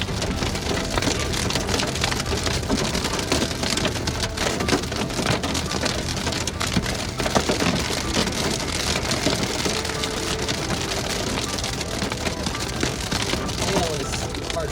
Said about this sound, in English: Look at all that hail.